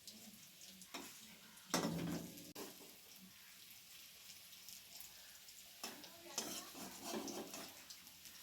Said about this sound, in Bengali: এই যে চিংড়ি মাছগুলোর মধ্যে নুন হলুদ মাখিয়ে, তার মধ্যে বেসন দিয়ে, লঙ্কা কুচি আর কালো জিরে, এগুলো সব একসঙ্গে মিক্স করে এই যেরকম বড়া ভাজছে